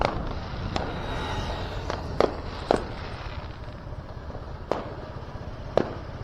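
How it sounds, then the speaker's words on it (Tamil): Diwali firecrackers shoot up and burst in a scattered series of sharp cracks and pops, some louder and nearer than others, against a steady background hiss with no speech. "இப்போ அந்த பட்டாசு மேலே போய் வெடிக்கும் பார்த்தீங்களா?"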